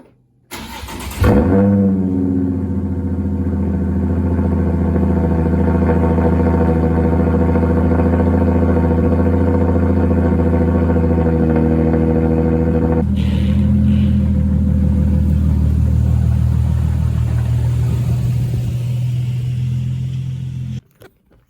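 A Nissan Z starts up inside a garage and runs steadily with a loud, close engine drone, then shifts tone partway through as it pulls out, with no talk over it.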